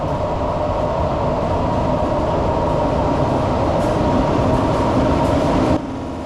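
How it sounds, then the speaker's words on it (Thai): A train locomotive rumbles loudly and steadily at close range at Khon Kaen railway station, Thailand, its engine drone dropping off abruptly near the end. "หัวรถจักรนำขบวนหมายเลข 4539"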